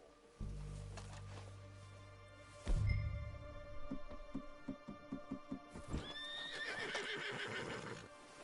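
Horse in the video game Red Dead Redemption 2, with a whinny and snort before a steady run of clip-clopping hooves at a moderate pace, fairly close, followed by another neigh.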